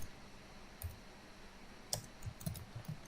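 A computer keyboard typing root login commands on a Linux webserver: a handful of sparse clicks, then a quicker cluster of keystrokes near the end, close and fairly quiet.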